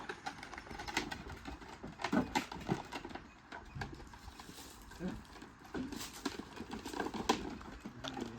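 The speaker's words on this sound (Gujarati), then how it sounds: "પુષ્પાડા, હા પેલું બળદગાડું છે." A bullock cart rolls past on a rural road where wood is being loaded, its hooves clip-clopping steadily at a moderate distance amid faint birdsong and background murmur.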